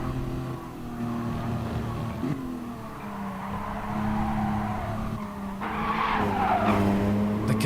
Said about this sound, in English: The cars are squealing in agony as these guys push them to the very limits of physical grip, mechanical grip